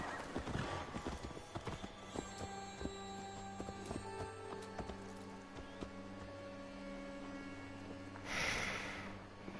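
Horse hooves clip-clop steadily at a walking pace in Assassin's Creed Valhalla, with a brief horse whinny near the end; the sound has a clean, game-like quality.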